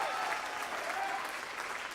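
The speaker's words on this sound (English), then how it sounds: "Give yourself a round of applause." Audience at a 2007 Christmas spectacular show applauds in a steady, even wash of clapping, moderately distant and sustained for the whole stretch.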